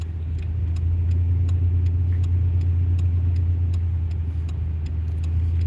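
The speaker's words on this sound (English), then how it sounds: "I'm driving like 25 to 30 mile an hour real slow with my flashers on" A car rolls slowly at 25 to 30 mph over bad roads in Illinois with its hazard flashers on, a steady low engine and road drone with faint regular ticking above it.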